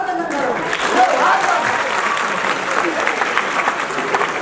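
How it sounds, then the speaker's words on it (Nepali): A hall audience applauds Prime Minister KP Sharma Oli, a dense, continuous wash of many hands clapping at an even level throughout, with a voice heard briefly at the start. "हामी सबैले सम्माननीय प्रधानमन्त्री केपी शर्मा ओलीलाई ताली बजाएर"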